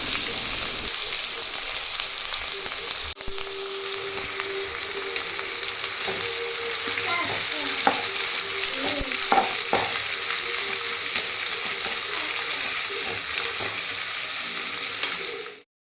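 Finely chopped large onions fry in hot oil in a home-stay kitchen in Kodaikanal, giving a steady, close sizzle with occasional stirring clinks and scrapes throughout.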